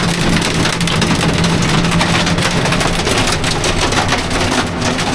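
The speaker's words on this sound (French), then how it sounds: "on a un peu de pluie qui vient d'arriver, un peu avec des bourrasques" Gusty rain drums steadily and loudly on a surface during stubble ploughing with a tractor, a dense continuous patter with faint engine rumble beneath and no voices.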